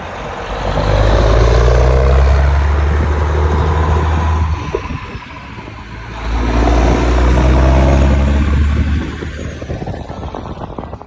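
A Caterpillar 3406B diesel truck engine runs loud and close, a steady low drone that swells in two long surges separated by a brief dip, with no talk over it.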